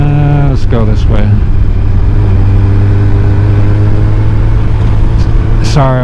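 Motorcycle engine running steadily while riding, with loud revs and gear-change pitch sweeps near the start and again near the end, its low drone constant throughout, close and loud.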